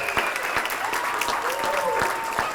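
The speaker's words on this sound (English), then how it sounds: "Let's give them all another round of applause for being so wonderful." Applause from a school assembly audience honoring students fills the space steadily, with a few louder individual claps standing out and a faint voice underneath.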